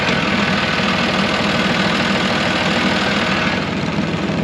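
Tractor engine idling steadily with the operator's foot on the clutch, a continuous low rumble with a slight knocking pulse, loud and close throughout with no talk.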